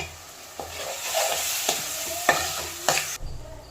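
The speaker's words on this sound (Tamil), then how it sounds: "நான் இப்போ இந்த அரைச்சி வச்சிருக்க இந்த தக்காளி விழுதையும் அதில் சேர்த்துக்கிறேன்." A spoon scrapes and clacks through frying masala as tomato paste is stirred in with garlic and shallots, several distinct stirring strokes over a steady oily sizzle, close and fairly loud, then stopping.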